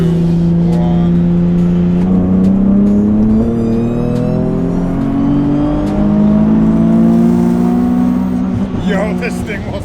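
Go kart fitted with a Nissan 350Z engine revs loudly and close for about ten seconds, a steady rising and falling drone with strong harmonics, and no talking over it.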